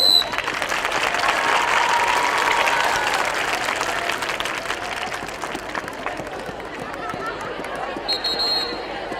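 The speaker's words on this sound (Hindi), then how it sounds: "तालियां।" Sustained applause from a group at a school CPR training session, dense clapping loud at first and gradually thinning, with some murmuring voices underneath.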